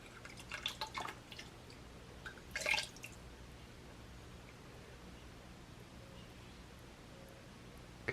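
Thinned seafoam green ceramic glaze poured across the bottom of a ceramic fountain piece: a few soft, close drips and one brief splash early on, then a quiet, hissy stillness.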